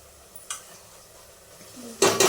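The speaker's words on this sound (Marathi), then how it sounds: "हलवून घेऊया मस्त आणि थोडस हे होऊ देऊया लालसर" Ground green chili paste sizzles softly in a pan while a utensil stirs it, giving a low frying hiss. A clink sounds near the start, and a louder scrape and stir comes at the end.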